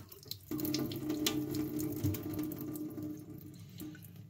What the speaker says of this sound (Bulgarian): Ще изтече малко вода